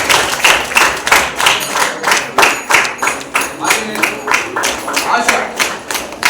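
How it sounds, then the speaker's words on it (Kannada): An audience at a school prize-giving ceremony claps in a steady, rhythmic beat, many hands striking together in even pulses, loud and close throughout. "ಚಪ್ಪಾಳೆ"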